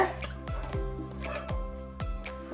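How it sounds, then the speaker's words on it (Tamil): Paneer mutter masala gravy simmering on medium flame in a pan, giving soft bubbling pops and drips at a slow irregular pace, quiet and close. "இந்த கிரேவி நல்லா கொதிச்சு இந்த ஆயில் எல்லாமே லூசன் அவுட் ஆகும்."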